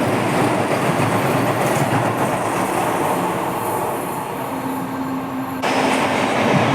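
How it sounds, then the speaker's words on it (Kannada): The Chennai–Mysuru Vande Bharat Express rumbles past Pandavapura railway station loud and close, a steady roar of wheels on rails with a faint clickety-clack, ending with a sudden drop as the cars clear. "ಚೆನ್ನೈ ಮೈಸೂರು ವಂದೇ ಭಾರತ್ ಎಕ್ಸ್ಪ್ರೆಸ್."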